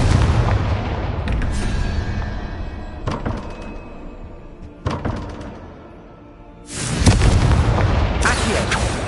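Confringo blasting spell explosions in a Harry Potter video game: several sharp booming bursts break through a steady rumbling game soundscape, closing with a loud, sustained roaring blast near the end.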